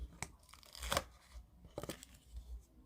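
Tape being torn while a cat hut is built from cardboard, heard as a few quiet, close ripping bursts with faint handling rustles between them.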